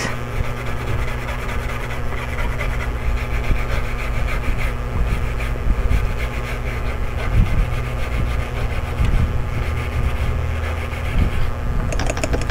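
A stiff brush scrubs corrosion off a Gigabyte RX580 8GB graphics card in rapid, continuous scratchy strokes, close and fairly loud, with a steady low hum underneath.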